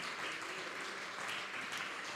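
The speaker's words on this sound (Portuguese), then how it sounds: "Você pode aplaudir o Espírito Santo por essa palavra?" Church congregation applauding during a service at Lion Church in Alphaville, São Paulo, a short, steady spell of many hands clapping at a fairly soft level.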